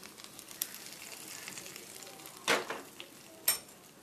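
Fried onion tempering poured into dal palak curry gives a faint sizzle, with a few sharp bursts of hissing at intervals over quiet kitchen background.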